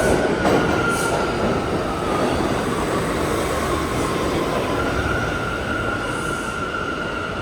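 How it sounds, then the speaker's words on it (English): A New York subway train rumbles loudly through Canal Street station, wheels clattering and faintly squealing, with a sustained roar that holds steady throughout. "I always get here right as the train shows up."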